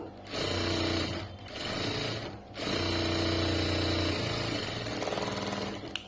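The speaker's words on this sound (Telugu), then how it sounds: "ఇలాగా పట్టుకుని సేమ్ అదే కుట్టు మీద స్టిచ్ వేసుకుంటూ వెళ్ళండి." A sewing machine stitches back over the same seam on a shapewear belt in short bursts, pausing briefly twice before a longer continuous run of rapid, close mechanical whirring.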